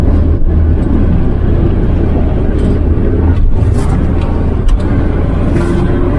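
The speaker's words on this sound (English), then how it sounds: "We are breaking the car in after probably nearly 20 years off the road." A Ford Cortina GXL, back on the road after years laid up, drives along with a steady, loud engine and road rumble throughout and a few brief thumps.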